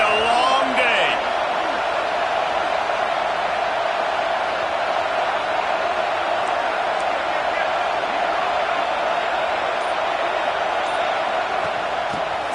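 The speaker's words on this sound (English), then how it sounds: "This crowd, full throat, splitting the eardrums and letting them know it's going to be a long day." A college football stadium crowd roars in a loud, sustained wash of noise, steady and dense from start to finish, with a few faint shouts poking through.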